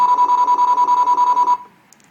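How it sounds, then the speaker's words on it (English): A loud electronic sound effect for a Star Wars Millennium Falcon toy's rotating dish, a rapid warbling beep pulsing in a fast steady rhythm for about a second and a half, then stopping abruptly. "that's the sound for the rotating dish"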